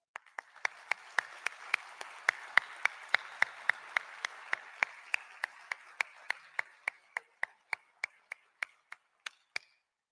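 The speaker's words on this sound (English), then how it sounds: "To you, a big applause." Audience at a world scout conference in Cairo claps for delegates and volunteers, a single sharp rhythmic clap cutting through at a steady pace above a softer background of scattered applause.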